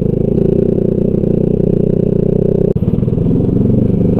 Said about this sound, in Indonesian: Lalu gua juga sekarang sedang pakai knalpot nopuan ya, tapi gua pakai DB Killer bro